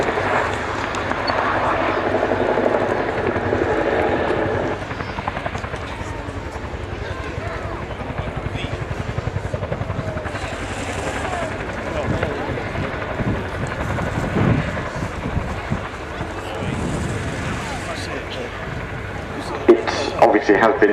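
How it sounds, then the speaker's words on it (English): A Chinook heavy-lift twin-rotor helicopter flies a display at the Waddington 2010 air show, its rotor roar and rumble rising and falling at a distance under continuous loudspeaker commentary. "enhancing the capabilities of an already very capable helicopter. So the Chinook wing forms the heavy lift element of Joint Helicopter Command"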